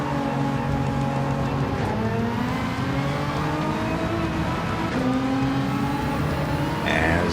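A Ferrari Gr.3 race car in Gran Turismo 7 holds a steady, loud engine drone with rising pitch sweeps as it accelerates through gears, alone without talk.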